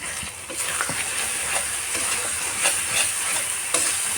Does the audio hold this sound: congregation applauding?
no